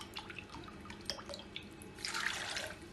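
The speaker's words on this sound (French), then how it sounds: "pour le sirop, je vais mettre 2 mesures d'eau" Water is poured into a pan to make syrup for a coconut basbousa, heard as a few faint drips and splashes that swell into a brief, soft stream of pouring near the end.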